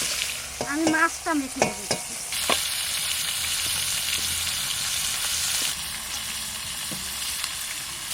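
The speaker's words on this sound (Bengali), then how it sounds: "এদিকে মাথাটা ভাজা হতে হতে" Hilsa fish head frying in oil in a pan, a steady broadband sizzle that runs through most of the clip after someone talks briefly at the start; a few soft stirring knocks come through near the end.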